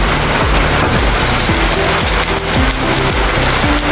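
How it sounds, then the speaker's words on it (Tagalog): Heavy rain pours steadily on a surface, a loud constant hiss with a low rhythmic thumping underneath, no voices. "Malakas pa naman ang ulan dito"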